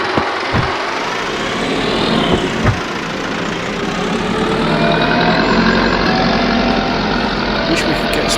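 Massey Ferguson tractor engine idling as it warms up in Farming Simulator 22, a steady loud diesel drone with a couple of brief clunks.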